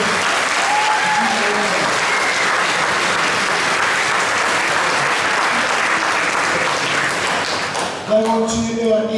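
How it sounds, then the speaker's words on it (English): Sustained audience applause at a junior school prizegiving for award winners, a steady dense wash of clapping from a large crowd that fades near the end as a voice begins speaking. "Hope a round of applause for our Campbell."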